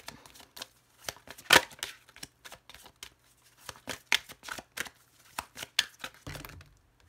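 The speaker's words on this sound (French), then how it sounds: "je tire les cartes du tarot avant. Et eh bien là, je le fais en direct" Tarot cards shuffled and handled by hand in a quiet room, a string of crisp riffling and flicking bursts with short pauses between them, fairly close and alone.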